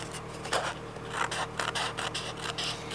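Small scissors trimming the edge of a decorative paper junk journal scroll, a few quick close snips and soft paper scraping in short bursts, no talking.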